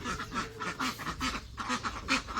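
Laying ducks quack over and over in a dense, steady chorus, the calls overlapping in a busy farmyard flock heard close by with no talk.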